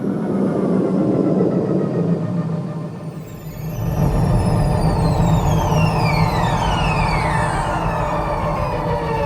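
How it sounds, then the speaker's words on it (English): Synthetic engine hum drops briefly, then a rising roar of sci-fi spaceship thrusters from a video game kicks in with sweeping whistling tones gliding downward over a steady drone. "First thrusters."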